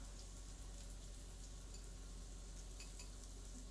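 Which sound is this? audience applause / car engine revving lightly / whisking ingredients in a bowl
whisking ingredients in a bowl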